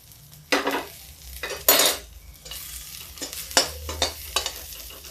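Spices such as coriander, Kashmiri red chili, garam masala and turmeric cook in a pan for black masoor dal with spinach, heard as intermittent bursts of sizzling and stirring, with spoon scrapes and clinks between quieter pauses.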